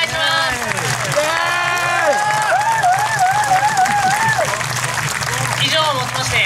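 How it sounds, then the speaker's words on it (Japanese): An outdoor audience at the Jozenji Jazz Festival stage in a park keeps up steady, dense applause, with a voice sounding over the clapping throughout. "もう一度大きな拍手をお願いします"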